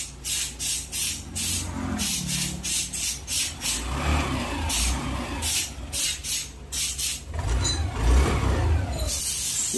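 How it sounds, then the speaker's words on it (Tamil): A car engine starts and keeps running after repair work done with an OBD diagnostic tool, heard as a steady rumble with repeated sharp squawking squeals and revving bursts throughout, fairly loud and close. "இப்போ இந்த வாகனத்தில் வண்டியை ஸ்டார்ட் பண்ணிட்டோம்."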